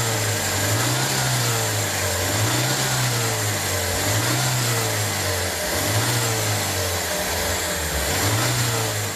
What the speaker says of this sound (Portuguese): O carburador está acelerado e nós vamos acelerar através do próprio produto.